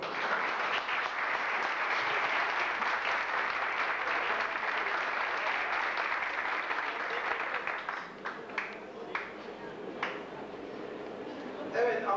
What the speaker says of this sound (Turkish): Kendisini bunun için de alkışlıyoruz.